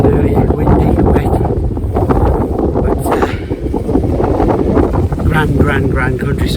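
Strong wind gusts buffet the microphone at a wet winter wild camp high in the mountains, a loud continuous roar with rushing surges and faint intermittent talk underneath.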